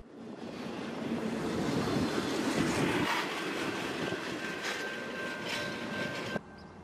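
A CSX freight train led by two Tier 4 locomotives with K5HL horns rolls past on the River Line, a steady loud rumble of engines and rail cars that swells and continues near, with a horn-like tone.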